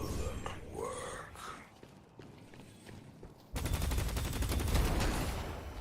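Rapid Valorant gunfire rattles in a dense, sustained burst during the latter half, preceded by a man's speech over quieter game background.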